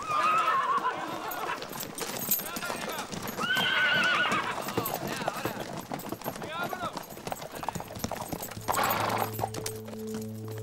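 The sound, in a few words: horses neighing and hooves clip-clopping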